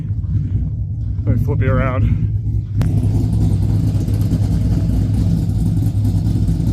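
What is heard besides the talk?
car engine rumbling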